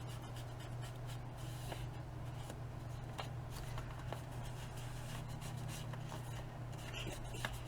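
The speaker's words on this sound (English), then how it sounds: "Let me go ahead and put a line, ink that there so you guys can see that line." Faint, steady scratching of ink being drawn in a line along an envelope crease, soft and continuous against a low background hum.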